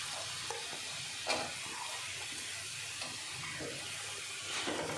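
Chopped potatoes go into a pan of sizzling masala while sevai is being made, a close, steady crackling hiss with a few soft clatters as the pieces land and are stirred, and no talking.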